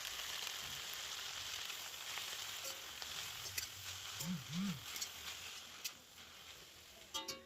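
Garlic and green chilies roast in a pan with a steady, fairly close sizzling hiss, while a voice speaks briefly over the frying.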